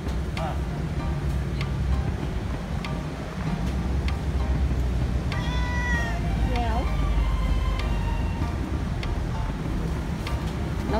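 A cat meows near a Ramly burger stall in Malaysia, a couple of clear rising meows in the middle, over constant outdoor background noise and chatter.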